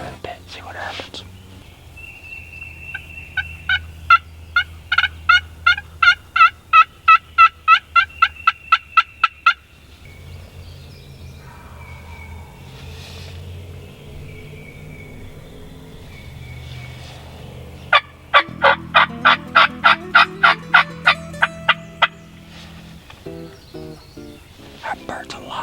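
A wild turkey gobbles in two bursts of rapid, rhythmic calls, each string repeated many times, moderately close in an outdoor hunting setting, with a low steady rumble and faint whispering beneath.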